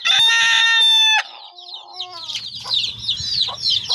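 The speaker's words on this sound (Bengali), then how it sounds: "মোরগ থাকলে একটু ডাকাডাকি করে আর কি।" A rooster crows loudly on a rooftop coop with hens, one long harmonic crow followed by scattered clucks and soft calls from nearby chickens.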